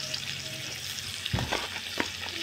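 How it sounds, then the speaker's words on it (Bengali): Pointed gourd and other mixed vegetables fry in hot oil with turmeric in a pan, a steady close sizzle with a few soft stirring scrapes and clicks, no voices. "একটু হালকা করে ভেজে নেব।"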